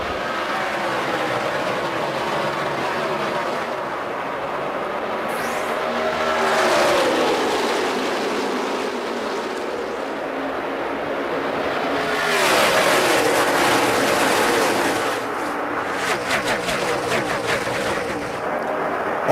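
NASCAR race cars at the 2012 GEICO 400 roar loudly through a restart, engines surging and passing in waves of rising and falling drone as the pack speeds by.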